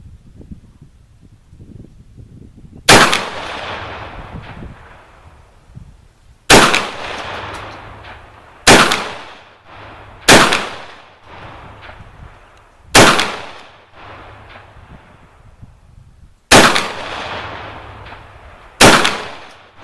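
A Benelli M4 shotgun fires seven loud, sharp shots at uneven intervals of one to three seconds, each blast followed by a short echoing decay outdoors, with no talking.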